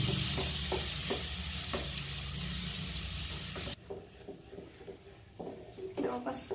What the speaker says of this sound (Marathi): जवळपास 5 मिनिटं झाली तर आपण फिरवतोय हलवा